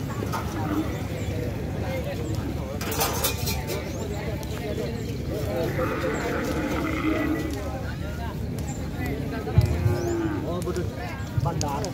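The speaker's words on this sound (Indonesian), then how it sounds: "Ini sapi dari tim Bandar Ketombe." Bull at a Madurese kerapan sapi race gathering, lowing amid a crowded, noisy scene of chatter and movement, with people talking throughout and a few sharp knocks near the end.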